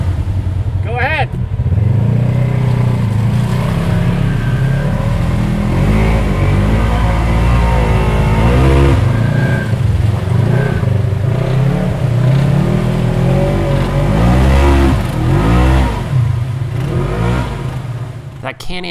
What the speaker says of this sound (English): That Can-Am Maverick Sport XMR is just a beast of a machine.